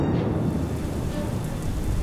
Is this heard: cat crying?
no